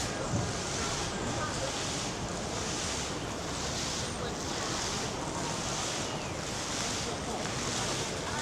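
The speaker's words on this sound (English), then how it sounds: "The pattering of the water along the surface." Water patters steadily over a surface in Leicester Square, London, a continuous close wash of splashing that holds an even level throughout, with open-air city ambience beneath.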